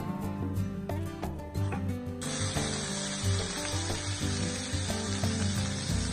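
Fish frying in oil on a tawa, a steady close sizzle and crackle throughout with occasional sharper spits and bursts, over a low background hum.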